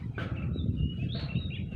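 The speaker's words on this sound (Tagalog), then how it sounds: "May mga huni ng ibon." Birds chirp and call outdoors on a hillside at Padada Crocodile Hills in Davao del Sur at midday, a few thin, high calls faint over a steady low rumble of wind or ambient noise.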